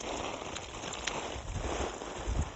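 Steady rain falling outdoors beside a splash pad pool with water toys, a continuous close patter with a few louder splashes, no voices.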